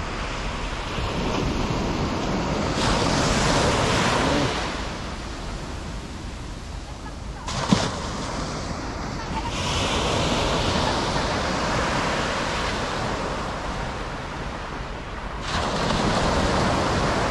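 Sea waves roll in at a seaside camping site, loud broad washes of surf rising and falling in several surges with wind rumble against the microphone; no clear talk over them.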